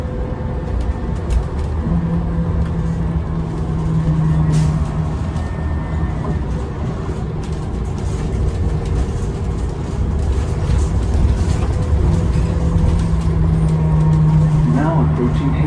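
A Santa Cruz Metro 2019 Gillig BRT Plus bus running on compressed natural gas, #1905 on Route 19, heard from inside as a steady engine drone and road rumble with a brief rising whine near the end and faint voices in the background.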